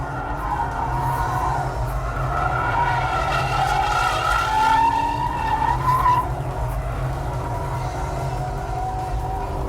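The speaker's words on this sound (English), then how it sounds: "what that limited slip allows you to do is this." 2008 Pontiac G8 GT tires skidding through a slide, a sustained, loud squeal that rises and wavers for several seconds over a low engine roar, then fades back to the rumble.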